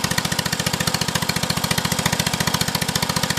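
A 1972 John Deere 112 garden tractor engine runs with no muffler, a loud, close, rapid and steady popping exhaust beat with no pauses.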